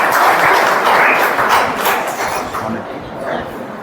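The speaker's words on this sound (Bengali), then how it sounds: "জোরে হাততালি একটা" An audience at a West Bengal pigeon-flying competition prize giving claps loudly in a dense, sustained burst that gradually thins toward the end, with voices mixed in under the applause.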